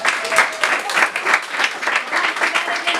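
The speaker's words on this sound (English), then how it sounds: "You can give our candidates a round of applause." Classroom audience applauding presidential primary debate candidates, a lively sustained round of many hands clapping in an uneven rhythm from start to finish.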